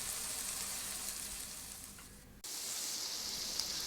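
Chopped vegetables for chicken fried rice sauté in a hot pan with a loud, continuous hiss. The sizzle cuts out briefly just past halfway, then resumes at full strength.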